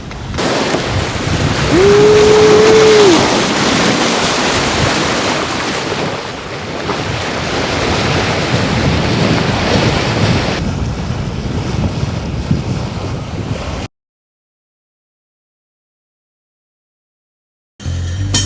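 Strong wind and surging ocean waves while a sailboat crosses the Gulf of Maine, a loud steady roar of wind buffeting the microphone over rushing water, cutting out abruptly near the end before briefly resuming.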